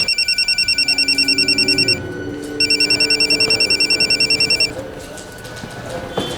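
A telephone rings in bursts of rapid electronic trills, two long rings separated by a short pause, loud and close, with faint background noise after.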